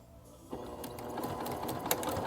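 A sewing machine starts up and runs a quilt block seam, a close, steady mechanical whir with rapid needle ticking after a short quiet lead-in.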